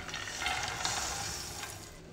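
Nuts tipped into a hot pan and stirred with a spoon, giving a soft continuous sizzle with light scraping and rustling at moderate volume, no voices.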